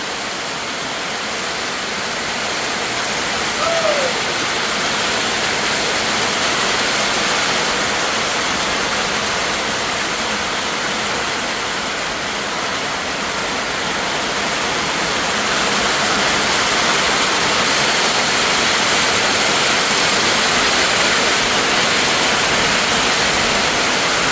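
Heavy rain pours down in a dense, unbroken roar, loud and close, holding steady the whole time with no voices.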